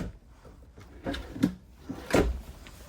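Large drawers in a 2026 Durango Gold 393MKF fifth wheel camper sliding and bumping shut, several short wooden knocks and thuds close by in a quiet room.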